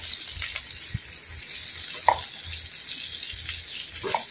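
Tomatoes added to dried anchovies in a pan give a low steady sizzle, with a few light clinks and scrapes of a utensil against the pan.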